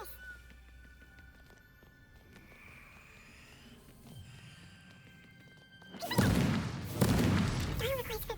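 A Confringo fire spell blast in Hogwarts Legacy, two loud bursts erupting close together after a quiet stretch of ambient game sound, with faint voices earlier.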